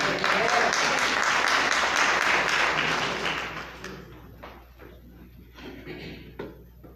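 A church congregation applauds loudly and steadily for a few seconds, then the clapping thins out into scattered claps and fades.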